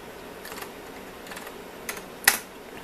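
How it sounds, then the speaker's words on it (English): Keys tapped on a Macintosh IIci keyboard, a few quiet, spaced clicks ending with one sharper, louder keystroke, close up in a quiet room with no talking. "let's type in chmod."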